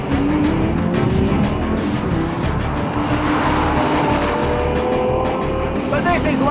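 A Lamborghini Murcielago engine roars loud and steady as the car drives fast, a sustained high-revving drone with shifting harmonics throughout.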